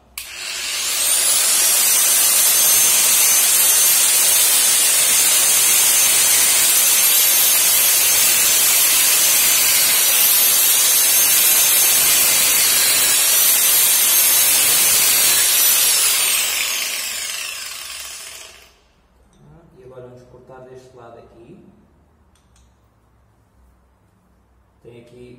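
A power tool cuts off excess metal from the footpegs of a Keeway Superlight 125 motorcycle, a loud sustained high-pitched grinding hiss lasting most of the clip before stopping, followed by quieter talk.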